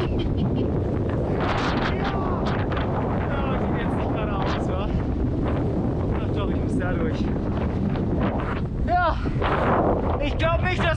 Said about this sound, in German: aber es ist windig